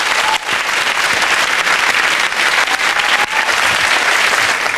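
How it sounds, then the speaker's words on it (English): Studio audience at a television game show applauding, loud, dense clapping that runs continuously and close for the whole stretch, with no talk over it. "a round of applause"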